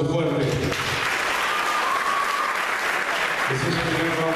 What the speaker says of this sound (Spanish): Gisela Catalano, aplauso fuerte